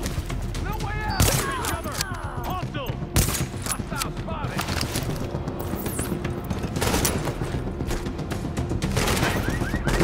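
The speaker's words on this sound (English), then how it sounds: "right as I shot that sniper, he shot me right back" Gunfire in the video game The Division at Grand Central Station, rapid bursts and sharp single shots crackling throughout with mechanical clicks, loud and close, amid game effects.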